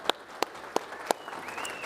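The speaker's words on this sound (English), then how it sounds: "A round of applause, please, for Lydia." Applause at a collector car auction during a concours weekend, a few sharp, evenly spaced claps ringing out close by before trailing off into a soft room murmur.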